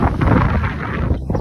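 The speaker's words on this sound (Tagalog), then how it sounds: "Napakalakas pa ng hangin." Strong wind buffets the microphone in a steady, loud roar with low rumbling gusts throughout.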